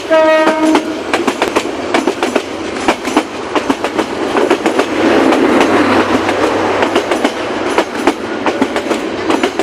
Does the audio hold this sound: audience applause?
no